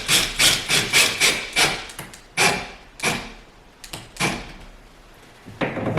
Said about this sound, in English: So again, just lightly screw it in.